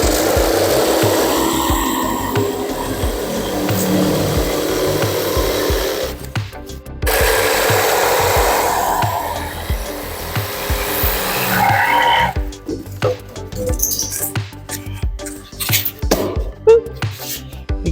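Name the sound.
jigsaw cutting wood for camper floor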